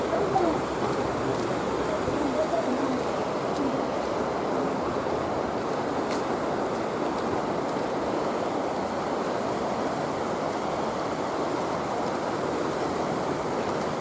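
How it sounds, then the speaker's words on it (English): Water flows steadily during a walk around Reno, a continuous broadband rush with no breaks, fairly loud and close. "Listen to that water."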